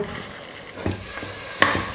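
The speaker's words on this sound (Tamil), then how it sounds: "இப்போ இந்த அரைச்ச விழுதை சேர்த்ததுக்கப்புறமா ஒரு 2 நிமிஷம் நல்லா வதக்கிக்க போகிறேன்" A thick ground masala paste sizzles gently in a pan while being sautéed for lunch-box rice, a spoon scraping and stirring it, with a couple of sharper clinks.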